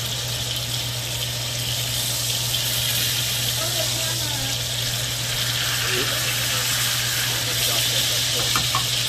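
A USDA Prime beef ribeye cap steak searing in a pan just after being flipped, a steady loud hiss and crackle of frying that continues throughout, close up, with faint scattered pops.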